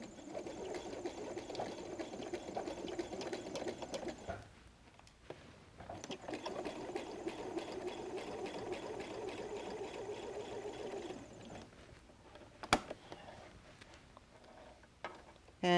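A sewing machine bastes a messenger bag along its top raw edge, running a straight stitch at 3.0 length in a steady, close whirring run for a few seconds, then a pause, a longer run and a few clicks as it stops.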